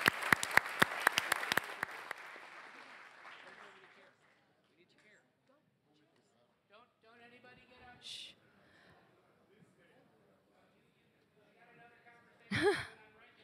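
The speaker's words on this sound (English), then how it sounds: "let's give an applause to the Minister" Audience applause for a minister at a conference stage event, a burst of dense clapping for about four seconds that fades into quiet room murmur, with brief voices and a rustle later.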